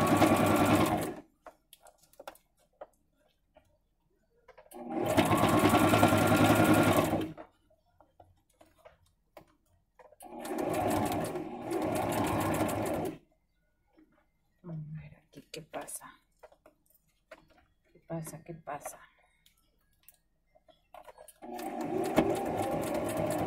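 A sewing machine stitches over a seam on a fabric cover for a rotary cutter, running in several distinct close bursts separated by quiet pauses, with a voice speaking in between.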